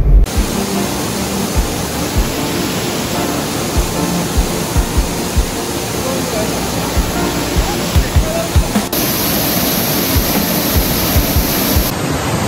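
The Barbakhara waterfall pours down in a loud, steady roaring wash of falling water, heard close up for the whole stretch, with soft thumps from handling the recorder and no clear talking.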